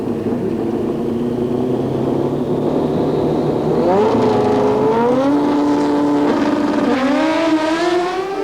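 Drag racing cars at an NHRA event roar down the strip, the engine pitch climbing then dropping and climbing again with gear shifts, loud and continuous with no pauses.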